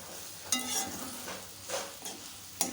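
Ground broad bean mixture being sautéed and stirred in a pan for an Indian side dish, with soft scraping stirs and a low sizzle, a few sharper spoon strokes standing out, no talking.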